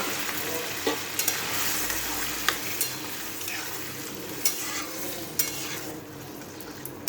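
Dal for egg tarka frying in a pan, a loud steady sizzle with a few sharp spoon knocks and scrapes as it is stirred.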